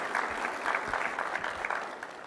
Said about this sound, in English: I think that deserves a whoop and a round of applause